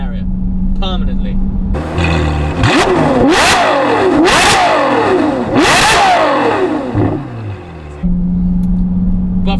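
Novitec N-Largo Ferrari F12 supercar engine revving loudly and close, with sharp repeated throttle blips rising and falling over a steady idle, several hard revs in a row before settling back to idle.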